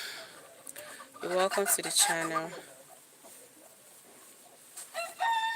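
A chicken crows and clucks in the background in Nigeria, a few loud, close calls interrupting someone speaking.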